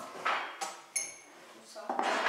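Dishes clatter and clink as they are lifted out of a kitchen cupboard during cleaning, with several distinct knocks of plates and utensils in close, moderate bursts separated by brief quiet gaps.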